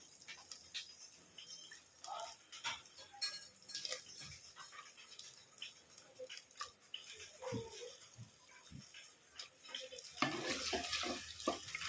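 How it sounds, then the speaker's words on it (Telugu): Chicken liver fries in oil with ginger-garlic paste, a faint sizzle broken by scattered spatula scrapes and clinks against the pan, growing louder and more hissy toward the end. "లివర్ వేసేసి ఇది కూడా ఒక 10 నిమిషాలు మంచిగా ఇట్లా నూనెలో మంచిగా ఉడకాలి ఇది కూడా"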